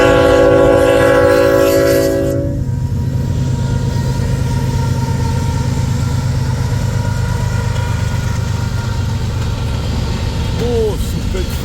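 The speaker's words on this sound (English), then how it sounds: "This, I believe, is the sand train" An eastbound sand train passes at Pacific Junction: a loud, chord-like horn blast for about two seconds, then the steady rumble of the engine and the clatter of rolling wagons going by close.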